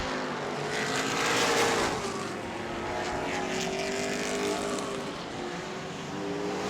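Race cars at a weekly Auburndale oval-track event roar past together, the number 78 closing on the leading 05. The engine drone stays loud and steady, with a passing swell and whine in the middle and no voices.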